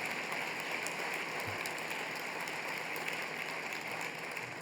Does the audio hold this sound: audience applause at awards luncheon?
yes